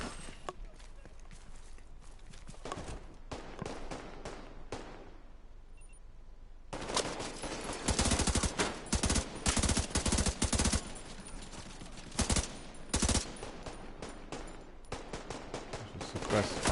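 Bursts of gunfire in The Division 2, clusters of sharp rapid shots after a quieter opening, loud and near, with a player talking between volleys.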